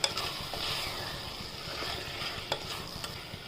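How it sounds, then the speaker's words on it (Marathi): Mint rice being stirred and sautéed in a pan with a spoon, giving a soft continuous sizzle with scraping and a few light clinks of utensil against the pan, close and steady with no talk. "छान हलवून परतून घेऊया."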